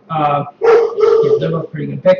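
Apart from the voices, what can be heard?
dog barking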